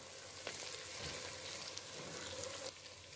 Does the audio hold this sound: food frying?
yes